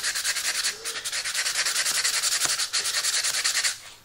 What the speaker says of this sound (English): So I'm sanding at 220 right now.